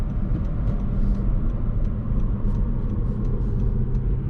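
A steady low engine rumble from a 2022 Honda Civic Si shifting gears, droning evenly with a dense bass hum and slight fluctuations, no speech.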